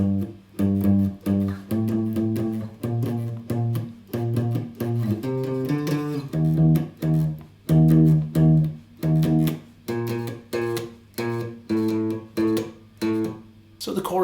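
An acoustic guitar riff from a song plays close and alone, alternating fretted and open-A-string notes in a repeating, bouncy rhythm with brief gaps between phrases.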